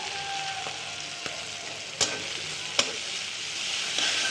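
Onions fry in a pan of banana curry with a steady sizzle, broken by a few sharp scrapes and taps of a stirring spoon, with no talking.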